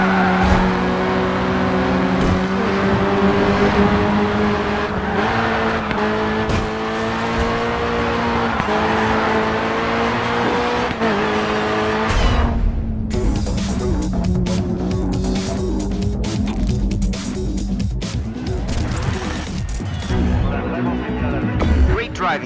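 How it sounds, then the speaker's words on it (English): Race car engine in the video game GRID 2, loud droning and shifting pitch through gear changes, with tire squeal and skids mixed in, running steadily under a commentator's voice. "Great driving, Dan."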